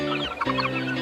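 Farm chickens clucking close by, a short burst of several quick clucks over a steady background hum.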